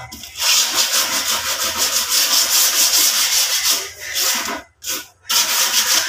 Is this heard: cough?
no